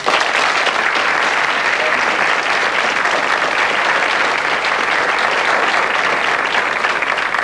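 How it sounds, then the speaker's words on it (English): Loud, steady applause from an audience fills the whole stretch, dense clapping without letup. "A round of applause, please."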